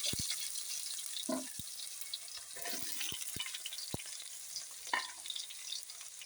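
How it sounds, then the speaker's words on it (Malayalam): Bitter gourd frying in coconut oil after mustard seeds have popped: a steady crackling sizzle with a few sharp clinks and scrapes of stirring, close and fairly quiet, with no talk. "ഇനി പാവയ്ക്ക ഇട്ട് കൊടുക്കാം."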